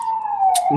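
An ambulance siren, a single steady wailing tone that is loud and close, with a brief sharp burst and a low rumble near the end.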